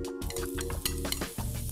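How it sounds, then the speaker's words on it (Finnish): Onions sautéing in oil in a saucepan, close and fairly quiet sizzling broken by repeated scrapes and clinks of stirring against the pan, with no talk. "Kuulotetaan sipuleita"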